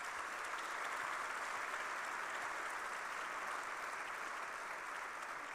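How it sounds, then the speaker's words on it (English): A large audience at Carmel, Indiana's State of the City address applauds the city council, a dense, even wash of clapping heard from a distance that holds steady throughout. "please give them a round of applause."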